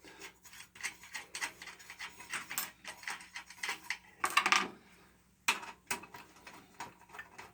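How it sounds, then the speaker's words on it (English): A nut driver turning out 5/16 screws holding a plate on a Rowe Jukebox CD Pro mechanism, with close, quiet rhythmic ratcheting and rubbing clicks in short repeated bursts and occasional louder metallic scrapes, no talking. "Going to remove the 3 screws that holds the plate, the 5/16."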